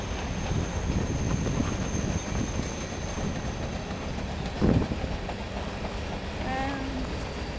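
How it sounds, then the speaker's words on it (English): The tail of a long freight grain train led by a single CP locomotive rumbles past close by with steady rolling clatter, a brief louder clank midway and a faint high squeal near the end. "here's the end of this train"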